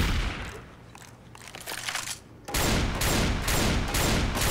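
An automatic combat shotgun fires in a video game, rapid blasts chained into a dense, loud burst that grows heavier halfway through.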